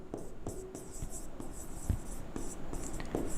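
Pen writing on paper in short scratchy strokes with brief pauses, close and fairly quiet, while an accountancy problem on goodwill treatment is worked out by hand; no voices.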